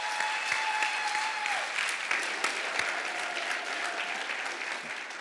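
An audience at a city State of the City event applauding, a dense sustained burst of clapping from a sizable crowd, loud and even throughout.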